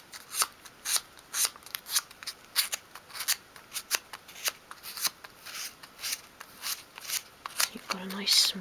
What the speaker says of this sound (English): you can actually work the sandpaper from front to back, so you're creating a nice sort of beveled edge along the cut